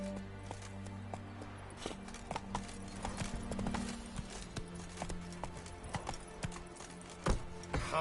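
Horse hooves clip-clop steadily in The Witcher 3 game, with an even walking rhythm of clear, close hoofbeats over a low background hum and no speech.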